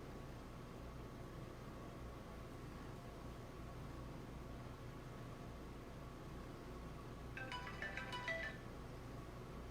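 A phone rings faintly in a quiet room, a short warbling ringtone burst near the end over steady low background hiss.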